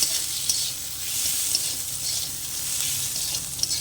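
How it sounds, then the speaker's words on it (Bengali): Washed masoor dal fries with spices in hot oil, a steady close sizzle broken by occasional light scrapes as it is stirred in the pan. "তো এই পর্যায়ে আমি দিয়ে দেব মুসুর ডাল। তো ডালটা আমি আগে থেকে ধুয়ে রেখেছিলাম, তো সেটাই দিয়ে মশলার সাথে ভালো করে মিশিয়ে নেব।"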